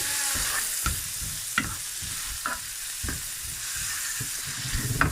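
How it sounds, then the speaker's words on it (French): Sliced white leek and onion sweating in a pan, with a soft, continuous sizzle and a series of distinct stirring scrapes at irregular intervals, close by. "On va tout faire suer ça ensemble."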